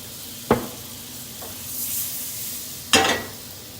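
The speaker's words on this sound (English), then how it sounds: "So we're gonna saute the mushrooms." Baby bella mushrooms sizzle softly in butter and olive oil, a steady low frying hiss broken by two sharp clanks of a utensil against the pan and a fainter scrape between them.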